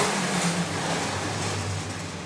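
A neighbour's loud car engine runs steadily outside, a low rumbling drone heard from a distance and without any talk.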